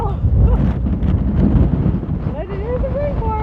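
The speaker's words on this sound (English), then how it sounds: "The gusts want to blow me off the trail." Strong gusty wind at a desert wind farm on a trail near Tehachapi, loud buffeting roar across the microphone that swells and drops in gusts, with a voice talking over it.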